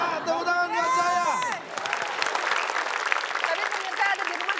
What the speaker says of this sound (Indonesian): Ya, tepuk tangan buat saya.